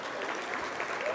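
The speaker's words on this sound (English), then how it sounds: "Yeah, more clapping for that." Applause from an audience at a scholarship awards dinner, a steady wash of clapping from a large room filling the whole short moment.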